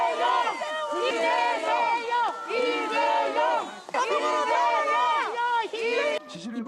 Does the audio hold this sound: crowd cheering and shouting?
yes